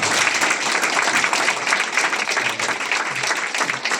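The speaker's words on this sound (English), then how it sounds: "So give them another round of applause." Sustained, dense applause from an audience at an international conference valedictory function, many hands clapping loudly and continuously for several seconds.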